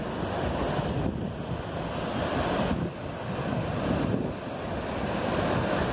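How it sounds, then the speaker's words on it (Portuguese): Sea waves wash onto a beach under a breeze on an overcast day, a steady loud rush of surf with wind buffeting the microphone, rising and falling gently throughout. "É uma brisinha aqui no mar, né?"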